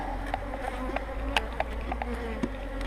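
Honeybees buzzing around an open hive during a swarm expansion check, a steady layered hum with individual bees passing close in brief louder buzzes, no talking.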